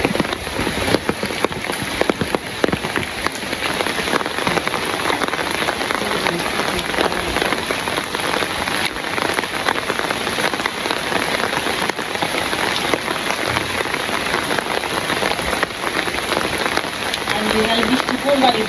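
During the rainy season, rain falls hard and without a break, making a loud, close, unbroken hiss of drops striking surfaces.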